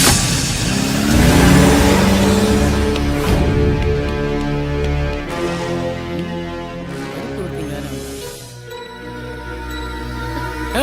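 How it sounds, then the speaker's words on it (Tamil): A car pulls away: the engine revs loudly up close, then settles and fades as it drives off over roughly eleven seconds, with a low steady tone running underneath. "டிரைவர், வண்டி எடு."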